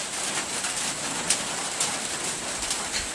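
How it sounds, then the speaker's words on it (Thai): Steady patter of light rain on a corrugated zinc roof over a farm hut, a dense even hiss with a few sharper drips, heard alone with no talk. "ฝนตกกระทบสังกะสีก็"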